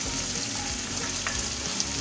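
Garlic is sautéed in a pan, giving a constant loud sizzle of hot oil close up, with a few small crackles and pops along the way and no voices over it.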